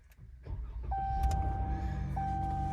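A Ram truck's 3.6 Pentastar V6 fires up after a push-button start and settles into a smooth, steady idle, with a low rumble and a couple of thin electronic chime tones from the cabin.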